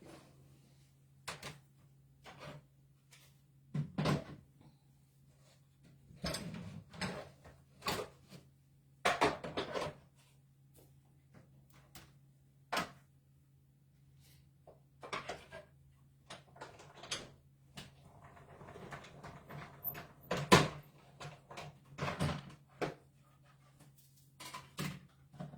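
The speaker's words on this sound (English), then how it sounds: "I'm going to run this through my cut and emboss machine." Scattered clicks, clunks and cranking creaks from paper run through a cut and emboss machine, sounding close and intermittent over a steady low hum, with a longer grinding stretch toward the end.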